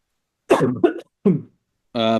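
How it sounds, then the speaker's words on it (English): A person coughs a few times in short bursts, close and loud, with brief gaps between, ending in a voiced throat-clearing sound. "That was a cough."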